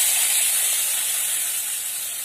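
Onions, green chillies and bay leaf hit hot oil left from frying fish in a village kitchen in Assam, giving a steady, bright sizzle and hiss that holds at an even level for the whole stretch, with no voices over it.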